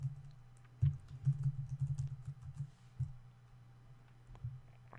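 Typing a new password on a computer keyboard: a quick run of close, soft key taps in the first half, then a few isolated presses, quiet over low background hum.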